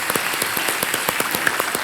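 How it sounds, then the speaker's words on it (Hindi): Studio audience applause on the set of the Hindi quiz show Kaun Banega Crorepati, a steady wash of many hands clapping throughout, fairly close and even, with no talk over it. "एक बार फिर तालियों के साथ अभिनंदन डॉक्टर शोभना राधाकृष्णन।"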